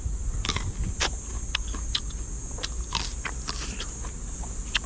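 Crunchy fresh fruit is bitten into and chewed with repeated sharp, crisp cracks at an irregular rhythm, close up, over a constant high insect-like drone and faint background rumble.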